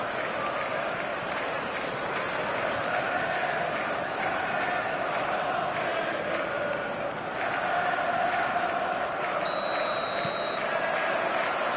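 A video-game football stadium crowd murmurs and roars in a steady, dense wash of noise before kickoff, with a faint sustained tone near the end.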